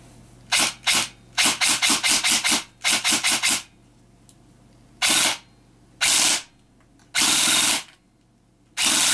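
Systema PTW airsoft gun on a 7.4 V battery fires several rapid full-auto bursts and then a few longer bursts with pauses between, each a sharp, close, buzzing mechanical rattle.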